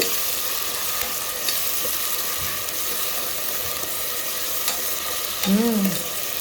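Ginger garlic paste sizzling in a pan with cardamom pods, star anise, a cinnamon stick and cloves, ahead of mutton pulao. The frying hiss stays steady and close, with light stirring and a brief tonal squeak near the end.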